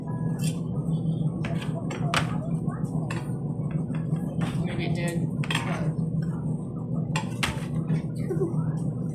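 Utensil scraping and clinking against a hot pan while lifting a baked sardine dish out of it, a series of irregular metallic clicks and scrapes over a low steady background hum.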